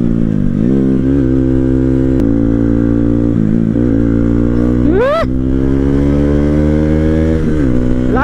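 A Bajaj Pulsar NS 200 motorcycle being ridden, its engine droning loud and close throughout with several rising revs as it accelerates and shifts gears.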